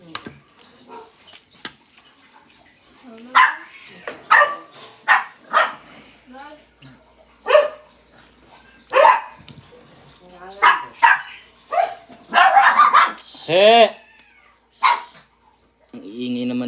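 Dogs barking and fighting indoors, loud irregular barks, yips and snarling bursts scattered through, with a high yelping squeal near the end and people talking at times.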